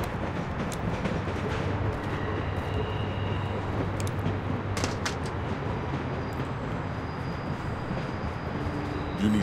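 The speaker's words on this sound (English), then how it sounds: "I'll get this train stopped right quick." Steady rumbling and rattling of a moving train in The Walking Dead video game, a continuous dense low roar running throughout with faint clanks, loud and close, no talk.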